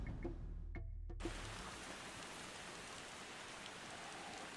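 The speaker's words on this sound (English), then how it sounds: "And it's raining." Steady rain falling in the video game Far Cry 2, a dense even hiss after a brief moment of quieter game sound at the start, continuous and fairly close with no voices.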